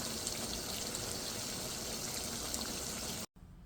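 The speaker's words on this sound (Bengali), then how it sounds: "এখন ঝোলের পানি দিয়ে দেবো" Hot water pours steadily into a pan of rooster curry, a continuous broadband splash and trickle that holds even for about three seconds, then cuts off abruptly, leaving a faint hiss.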